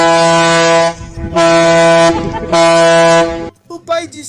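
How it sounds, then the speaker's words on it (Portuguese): A ship's horn sounds in three long, very loud harmonic blasts with short gaps between them, blown by a boat at a child's request, and a brief voice follows at the end. "Esta menininha passou um bom tempo pedindo às pessoas no barco que buzinassem"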